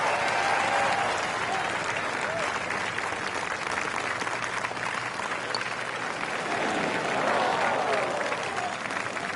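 Sustained crowd applause in a PS4 golf video game, a dense steady clapping roar that fills the whole stretch after a bold eagle putt attempt, with a commentator's voice faintly underneath.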